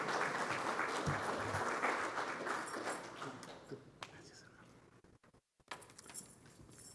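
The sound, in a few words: congregation applause welcoming pastor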